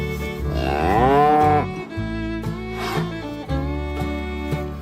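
Dairy cattle out on green pasture lowing in one long, loud, drawn-out moo, then a few shorter, quieter calls and a steady rumbling low note underneath, heard close with no talking.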